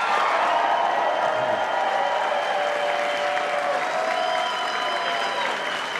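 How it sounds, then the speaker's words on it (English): Sustained applause from a large crowd at an election victory speech, steady and loud throughout, with a dense wash of clapping and occasional cheers mixed in. "give yourselves an enormous round of applause"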